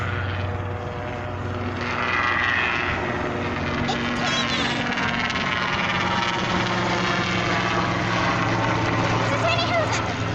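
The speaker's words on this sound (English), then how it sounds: "A personal helicopter flying through." A personal helicopter's steady rotor and engine drone passes by outdoors, fairly loud throughout, with people talking faintly in the background.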